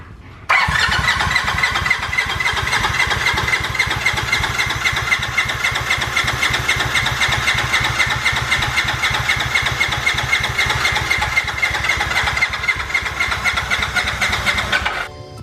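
Polaris RZR1000 big turbo engine fires up on its first start, catching quickly and settling into a loud, rough, steady idle with a buzzy, pulsing character that runs unbroken until cutting off near the end.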